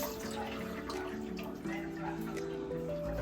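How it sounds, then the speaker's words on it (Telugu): Cold water pours steadily into a pot of boiling food in a home kitchen, a continuous splashing gush heard up close with a low steady hum underneath. "కొంచెం చల్ల నీళ్ళు కూడా అందులో పోస్తాను"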